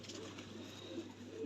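Faint, brief cooing from a pigeon that a falcon has badly injured, recorded at home over a low steady background hum.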